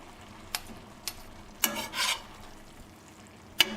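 Pasta, spinach and tomatoes tossed in olive oil in a pan, heard as a few faint scraping and stirring strokes with brief louder rustles.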